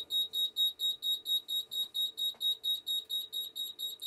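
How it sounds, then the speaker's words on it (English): Apollo Discovery heat detector fire alarm in full alarm, sounding a loud, steady pulsing electronic tone that repeats about four times per second with no break, close by and clear, with a faint click partway through. "It should go into full alarm in a minute."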